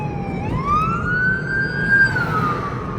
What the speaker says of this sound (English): and then here comes another ambulance.